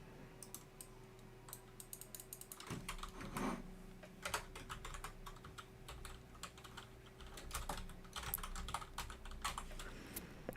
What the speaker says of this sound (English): Let me actually start typing out the graphic because I haven't.